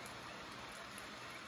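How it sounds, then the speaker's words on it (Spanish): Heavy rain falls steadily in Chichiguite under a dark sky, a faint, even hiss of drops with no break and no voices. "Siga cayendo lluvia fuerte"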